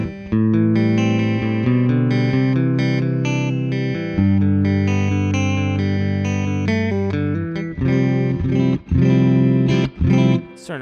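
Electric guitar played through a 1970 Fender Twin Reverb tube amp, sustained chords and notes with a warm, slightly distorted tone and reverb tails, with brief pauses between phrases.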